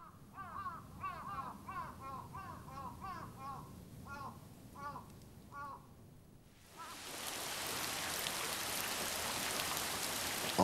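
Rain falls steadily at the Itsukushima shrine in Japan, a dense, even hiss that fills the second half. Before it, several crows caw repeatedly in a rhythmic series over a quieter, softer wash.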